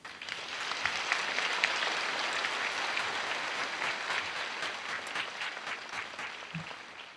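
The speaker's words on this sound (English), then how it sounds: "Let's give him another big round of applause." Sustained applause from a crowd at a university commencement ceremony fills the whole stretch with dense, steady clapping. It swells at the start and fades slightly toward the end.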